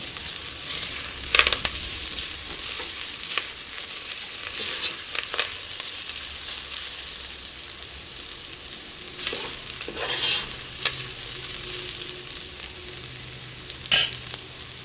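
Ginger and garlic fry in oil in a pan for a beef dish, a steady close sizzle with occasional bursts of scraping and stirring, no voices.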